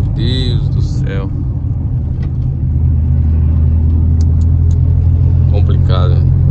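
A Volkswagen Gol with a 1.6 AP engine rumbles with a steady low drone from inside the car as it accelerates, while someone talks over the engine noise.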